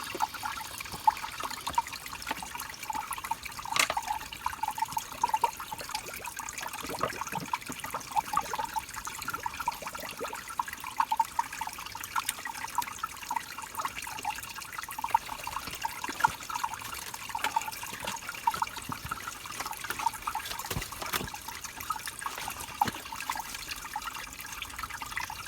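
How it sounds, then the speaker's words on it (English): Outdoors on a bike camping trip, water trickles steadily while drinking water is collected, a faint continuous burble with small splashy ticks and no voices. "I'm going to collect some drinking water now."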